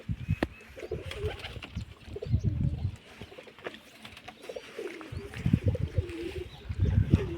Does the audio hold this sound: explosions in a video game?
no